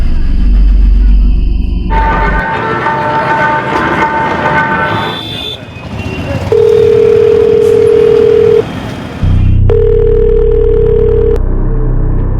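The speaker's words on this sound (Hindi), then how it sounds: "सोनू का मोबाइल स्विच ऑफ नहीं है सर, रिंग तो जा रही है।" A mobile phone call rings out on an unanswered line, steady tone bursts repeating over loud background noise and a low hum, with a brief gap between rings.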